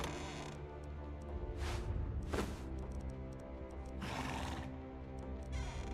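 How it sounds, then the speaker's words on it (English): A horse in the survival game Conan Exiles whinnies and snorts several times over a steady low background hum, fairly faint, with occasional clip-clop and creaking. "This horse making strange noises."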